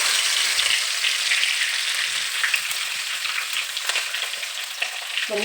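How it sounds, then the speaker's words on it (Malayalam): Steady, loud sizzling of dried fish frying in hot oil, with crackling bursts and faint stirring noises. "അപ്പോൾ ആദ്യം നമുക്ക് ഈ മീൻ വറുത്തെടുക്കണം"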